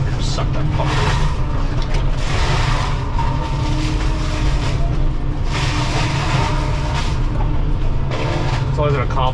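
A Shearex VM-40 excavator mulcher head kept spooled up, a loud continuous low mechanical roar with a heavy engine drone and bursts of grinding noise, with someone talking over it.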